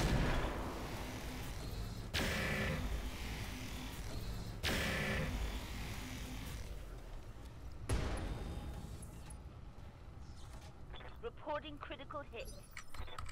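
Mech weapons firing in the video game RogueTech, four heavy booming blasts spaced a couple of seconds apart, each decaying into a rumble, with a voice talking faintly near the end.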